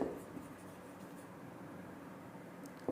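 Chalk or marker writing on a board during a physics lesson on capacitors, a faint continuous scratching stroke in a quiet room, with no talking.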